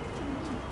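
Pigeon squabs coo once in a soft, low, brief call, close by, over a steady background hiss.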